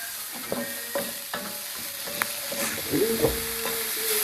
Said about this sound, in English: So mushrooms ಹಾಕಿ another 4-5 minutes ಸಾಟೆ ಮಾಡ್ಕೋಬೇಕು.